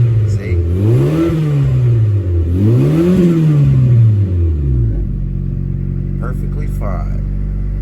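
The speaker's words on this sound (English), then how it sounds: "Let me rev it." A turbocharged car engine with a newly installed boost gauge revs twice in rising and falling sweeps, then settles into a steady loud idle rumble, close by.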